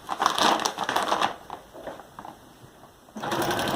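A sewing machine stitches the top of a tote made from a feed bag, running in a fast, close mechanical whir. It slows to quieter clicks partway through, then speeds up again at the end.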